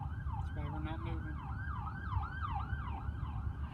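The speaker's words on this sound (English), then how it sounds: "It's an ambulance. That's why we're not moving." Ambulance siren wailing in a steady rising and falling cycle from a moderate distance, faint beneath a low rumble of traffic near a train crossing in Texas.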